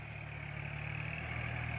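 A tractor engine runs at a steady idle with an even low throb and a faint high whine, constant and close for the short stretch while the machine pushes dirt.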